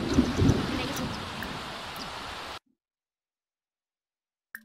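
A Sims 4 thunderstorm plays as a loud rushing wash of rain and wind with low rumbling swells, fairly close and steady for a few seconds before cutting abruptly to silence.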